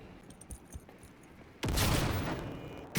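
A grenade blast in the video game Cyberpunk 2077 erupts suddenly as a loud, broad roar that fades over about a second, with a second burst right after it and faint game noise before.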